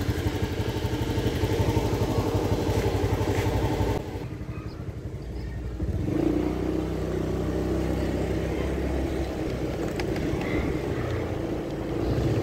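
Motorcycle engine on a test ride along a village road, a continuous droning ride that dips briefly around the middle, then rises again and holds steady, close and moderately loud with no voices.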